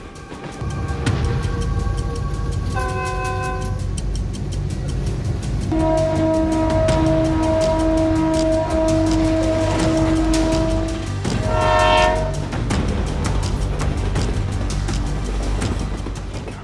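A train sounds its horn in long sustained blasts while heavy railcars roll past close by, a constant loud rumble and clatter running underneath the horn throughout.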